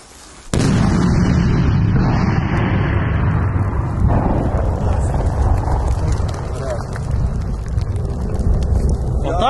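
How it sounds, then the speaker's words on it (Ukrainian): A blast on a road in a war zone, a sudden loud burst followed by a long rumbling roar that fades slowly over several seconds. "Отак може бабахнуть, якщо не слухати і їздить по неізвісним дорогам."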